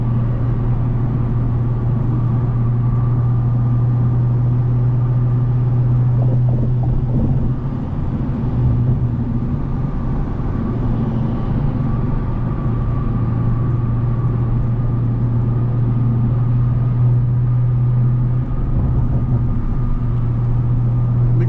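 BMW M340 with 500+ hp pulling hard at night, a steady loud engine drone with strong low rumble sustained throughout, revs holding and shifting slightly, no talk over it.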